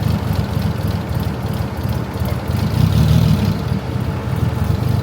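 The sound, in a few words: Nissan 240sx RB engine running choppy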